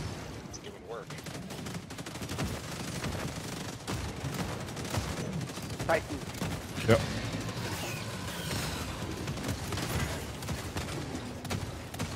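Rapid gunfire in the video game Helldivers, including autocannon fire, crackling continuously at moderate distance under a busy battle soundscape, with players talking over it.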